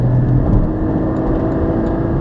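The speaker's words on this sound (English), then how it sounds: "The engine is noisy." Porsche 718 Cayman GT4 engine and exhaust droning steadily from inside the cabin while cruising, a loud low rumble with a constant hum and no talk.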